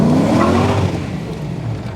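A brand-new 6.0 LQ9 V8 in an LS-swapped El Camino with stage 2 cam and heads revs briefly, held under 3,000 RPM, with a loud throaty rumble that eases slightly toward the end.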